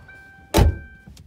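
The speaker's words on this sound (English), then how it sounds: "let's jump into the Camo Vic and let's go for a drive" A camo-wrapped Vic car being entered, with a single solid door-closing thunk inside the quiet cabin and a faint click shortly after, heard alone and up close.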